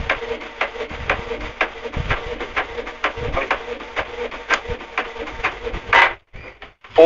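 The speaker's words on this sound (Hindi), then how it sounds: "तो भाई प्रिंट निकल रही है हमारे पेपर के ऊपर।" An inkjet-style printer prints a photo onto paper for an iron-on T-shirt transfer, giving a steady run of rhythmic mechanical clicks and carriage passes up close, ending with a brief louder whir as the sheet feeds out.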